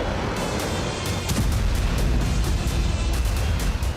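Loud, dense booming of explosions in Ukraine during the Russia-Ukraine war, with sharp bursts and rumbling blasts piling on each other, close and continuous.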